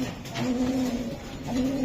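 A male racing pigeon coos at night among many pigeons, giving a few low, throaty coos close by with no talking over them.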